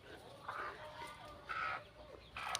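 Chickens cluck in short, scattered bursts close by, with a rooster-like call near the end and a steady background hiss.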